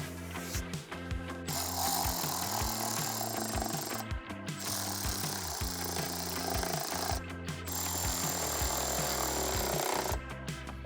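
Bursts of a power tool driving 10mm bolts back into a fender flare on a 2022 Toyota Tundra, close and steady, with a rattling motor whine broken by several short pauses between runs.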